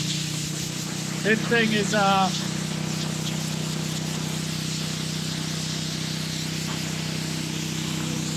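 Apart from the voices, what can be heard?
compressed air hissing from an air compressor blow-off valve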